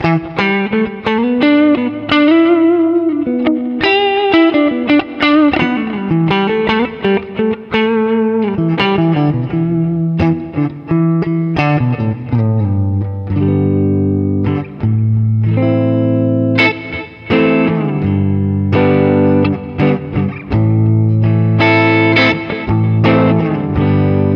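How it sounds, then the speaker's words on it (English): Distorted electric guitar with a single-coil bridge pickup, bright, twangy and clacky, plays a continuous riff of chords and single notes, loud and close, with no talking. "The bridge. It just has a more clacky, single coily thing."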